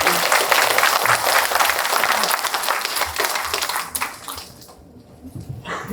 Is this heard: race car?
no